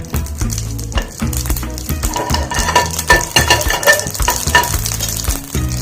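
Loud crackling and popping of mustard seeds sizzling in hot ghee, close by, with a spoon stirring and clinking against the pan.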